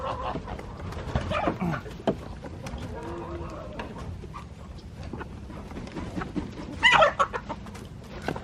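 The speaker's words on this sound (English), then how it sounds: "I quickly let the chickens out." Chickens cluck repeatedly outdoors on a heavy drizzly day, with soft scattered clucks throughout and a louder, sharper call near the end, close to the listener.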